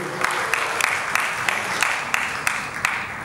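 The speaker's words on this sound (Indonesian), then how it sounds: "Tepuk tangan dulu untuk Bapak Agus Sukarmajid" An audience at a seminar claps for a speaker being introduced, a steady mass of applause with a few louder, regularly spaced claps standing out close by, and a faint voice beneath.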